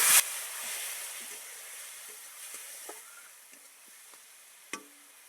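Spices with turmeric and a splash of water simmer over low heat in a pan for a pointed gourd dish, giving a soft, faint steady sizzle with a few light spoon taps.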